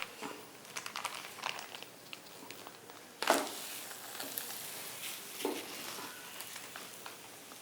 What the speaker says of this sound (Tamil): கொஞ்சம் நேரம் வந்து நீங்கள் சிம் ஃபயரில் வச்சு நல்லா செவக்க வேக வைங்க.